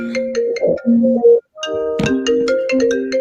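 A mobile phone ringtone plays loudly during a talk-show discussion, a bright melodic electronic tune in two phrases separated by a brief silent gap.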